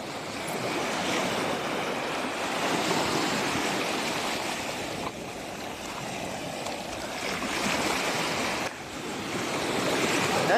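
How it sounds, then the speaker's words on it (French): Ocean waves rolling in near the shore, a steady loud broadband wash that swells and recedes in slow surges across the whole stretch, with no talk over it. "t'es dans les vagues, près de l'océan"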